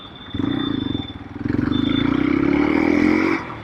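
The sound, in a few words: modified Hero Xpulse 200 motorcycle taking a U-turn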